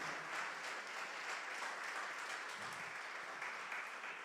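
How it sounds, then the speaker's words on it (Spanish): Church congregation giving applause to the Lord at a Spanish-language family service, a steady, fairly faint wash of clapping with no break, heard from a distance. "Dele nuevamente un fuerte aplauso al Señor."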